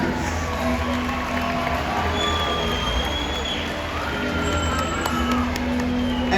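Crowd at a killer whale show cheering and applauding for the whales, a broad continuous roar of voices and clapping held at an even level from start to finish.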